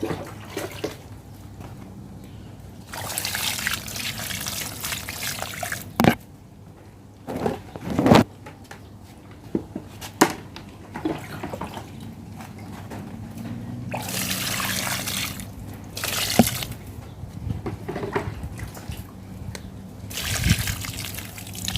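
Water is poured onto dry, parched soil around a caladium plant, an ongoing trickle and splash in uneven bursts with brief gushes and occasional knocks, close and moderately loud.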